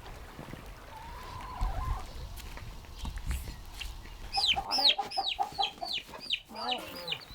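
A flock of about thirty farm chickens clucking in quick, repeated squawks near the end, with low rumbling and a faint voice earlier on a ranch.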